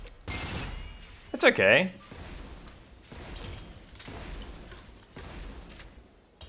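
SMG fire in SYNTHETIK 2, with short bursts and a loud, sharp shot near the start, followed by quieter rattling as someone talks briefly over the action.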